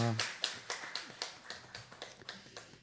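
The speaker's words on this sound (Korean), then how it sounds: "우리 완수 형제하고 진현 형제 우리 집사님 우리 박수 한번 쳐주겠습니다" A church congregation claps in a steady, rhythmic series of about ten sharp, evenly spaced claps, moderately loud in a reverberant room, with a brief voice at the very start.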